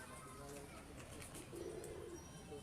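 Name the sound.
pigeons cooing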